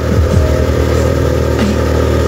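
A motorcycle engine labors up a steep rural road between Quezon, Bukidnon and Don Carlos while carrying a heavy rider, giving a steady, loud, close drone with slight pitch shifts throughout.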